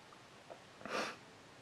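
A single short, breathy sniff close up, quiet and isolated, with a faint intake just before it, smelling Carolina Herrera 212 VIP Black eau de parfum.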